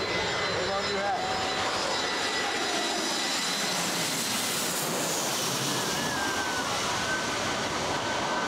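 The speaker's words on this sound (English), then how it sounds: "This is the area where planes land right overhead" A jet airliner roars low overhead while landing at Princess Juliana International Airport on St. Maarten, its loud engine noise building and sweeping past with a falling whine, steady and close throughout.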